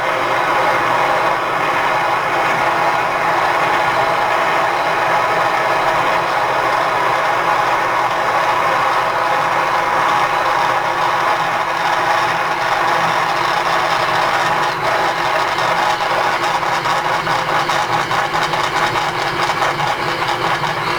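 A machine driven through a Lovejoy jaw coupling runs steadily and loud for the whole stretch, with the brake held slightly; a faint intermittent tick recurs as the set screw area passes, buried in the continuous mechanical drone.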